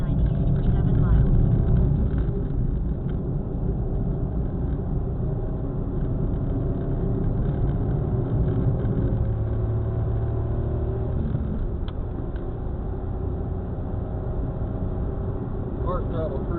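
A car cruises at highway speed on Oregon 569 East, with a steady, loud low road rumble and engine drone filling the whole stretch, hardly changing.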